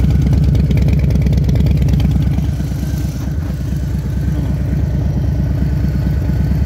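A Harley-Davidson 117 with a 1920 cc engine idles steadily with a deep, loping exhaust rumble, loud and close, running alone without talk.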